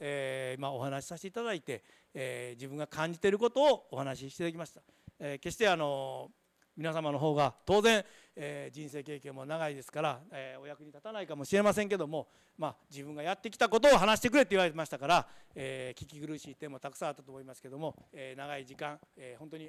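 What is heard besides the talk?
No everyday noise stands out behind the speech.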